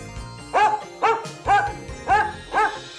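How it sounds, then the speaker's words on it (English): A big dog barks as it runs into a house, five loud, close woofs in a fairly even rhythm, with faint jingling between them. "Brian opens the door and a big dog runs into the house."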